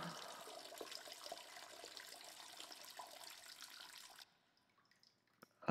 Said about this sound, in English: press escape to flush